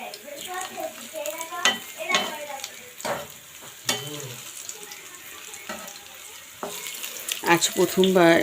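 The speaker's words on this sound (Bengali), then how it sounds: "এই পাকোড়াটা আমি ভাজতেছি" Prawn pakora fries in hot oil with a close, crackling sizzle. Sharp clinks and scrapes from utensils against the pan come and go, with a brief burst of clatter near the end.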